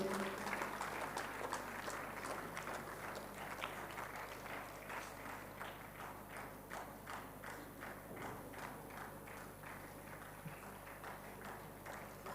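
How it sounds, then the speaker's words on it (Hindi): Audience applause after a valedictory address at a church event, a sustained patter of many hands clapping fairly evenly across twelve seconds, heard at moderate distance with a faint steady hum beneath. "जोरदार तालियों के साथ आभार व्यक्त कीजिए।"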